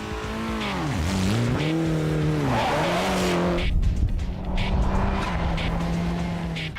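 Rally cars race on a tarmac street stage in the Coromandel region of New Zealand, engines loud and close with rising and falling revs, gear changes and tyre squeal as they pass.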